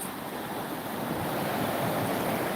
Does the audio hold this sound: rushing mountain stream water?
yes